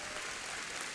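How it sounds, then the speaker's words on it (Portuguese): A church audience gives a round of applause for a boy, a brief steady burst of dense clapping with no voices over it. "vamos dar uma salva de palmas para esse menino"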